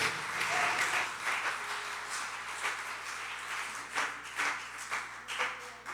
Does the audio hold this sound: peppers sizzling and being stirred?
no